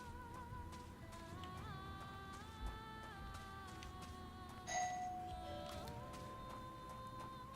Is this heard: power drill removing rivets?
no